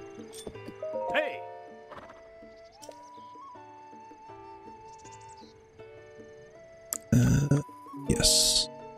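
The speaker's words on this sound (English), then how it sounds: "Restless horse." A restless horse in Breath of the Wild snorts and whinnies between hoof clops, set against tinkling game music, with a few sharp louder bursts toward the end.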